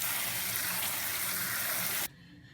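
Water gushes steadily from a tap into a bowl of freshly picked dandelions, a loud, continuous broadband rush that cuts off abruptly near the end, leaving quiet room tone.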